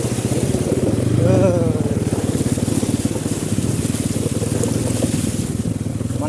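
A motorcycle rides through floodwater on a road, its engine a steady close drone with continuous water swishing around it throughout.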